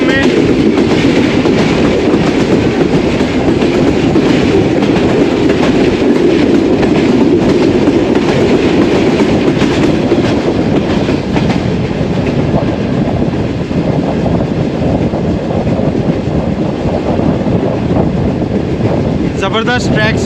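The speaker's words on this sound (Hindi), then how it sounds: "ज़बरदस्त ट्रैक साउंड्स के साथ झेलम ब्रिज को क्रॉस किया" Passenger train crossing the Jhelum River bridge, with steady loud rumbling and clattering of wheels on the tracks and wind buffeting the microphone throughout, heard from on board.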